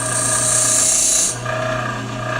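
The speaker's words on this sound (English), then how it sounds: "So don't leave it up against the grinding wheel for more than a few seconds at any time." A high-speed steel lathe bit is held against a spinning grinding wheel, giving a steady, loud grinding hiss that cuts off after about a second and a half, leaving the wheel's lower hum running on.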